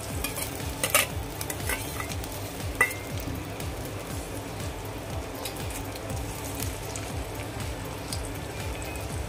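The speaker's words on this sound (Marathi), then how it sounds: "आता यामध्ये कांदा घालते मी." Onion frying in heated oil in a pan for Kolhapuri tambda rassa, a steady close hiss and crackle with repeated stirring scrapes throughout, no voices.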